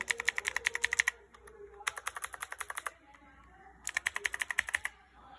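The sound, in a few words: typing on mechanical keyboard, Cherry blue switches, SA profile keycaps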